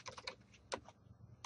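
Typing code on a computer keyboard while writing an Arduino program: a few quick clusters of key clicks separated by short pauses, close and fairly quiet, with no voices.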